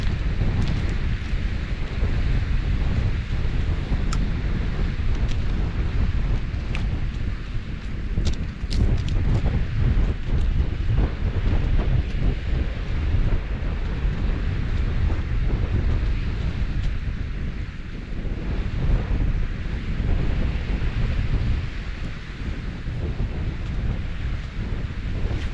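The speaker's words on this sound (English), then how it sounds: "bloody wind's turned round a bit and blew in the shelter" Strong wind buffets the microphone on the Humber estuary shore in North Lincolnshire during sea fishing, a continuous loud roar with gusts and no talking throughout.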